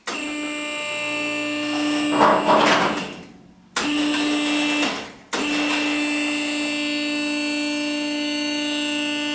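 A vehicle lift raising in a garage, a steady loud motor whine with hum that cuts out twice in brief stops and restarts, ending in continuous running.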